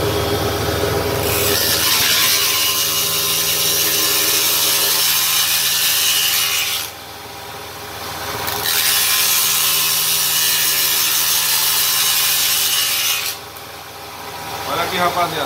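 A power tool grinds and sands round wooden pieces being thinned for a bird cage, a loud continuous abrasive whir in two long runs with a brief pause between, starting again at the end.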